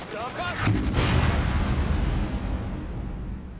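Artillery fire in the video game World in Conflict, a heavy booming blast followed by a long rumbling, crackling decay, with a voice speaking just before it.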